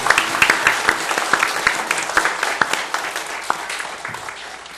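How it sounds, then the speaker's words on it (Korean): A congregation at a Christmas church service breaks into applause, a lively burst of many hands with a few sharp individual claps standing out, gradually tapering off over several seconds. "박수 한 번 더 쳐주시면"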